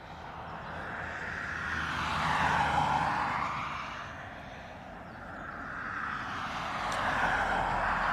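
Aircraft landing at Dublin Airport, a plane arriving from Liverpool: a steady broadband engine roar that swells and fades twice over several seconds, moderately loud and fairly distant, with no talk.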